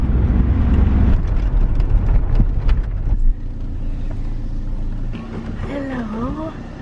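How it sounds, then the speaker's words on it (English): Car driving on the road toward a nature reserve, a steady low rumble of engine and road noise filling the cabin throughout, with talk over it. "now we've got a 20-minute drive over to South Walney Nature Reserve. And I am driving"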